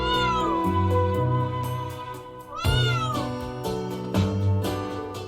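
A cat in the video game Trails of Cold Steel IV meows several times, drawn-out plaintive cries over a steady tonal game music bed.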